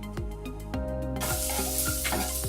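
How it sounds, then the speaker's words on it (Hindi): Onions sauté in about two tablespoons of oil in a pan, giving a close, steady sizzle that swells louder halfway through, with regular clinks and knocks of a utensil stirring underneath and no talk. "प्याज को हल्का सा हमने सोते कर लेना है।"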